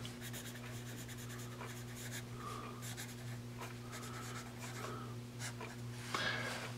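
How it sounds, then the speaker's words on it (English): Pencil writing on paper, a Musgrave 600 News pencil, giving faint scratchy strokes in short irregular bursts over a steady low electrical hum. "to me, this is a fun pencil"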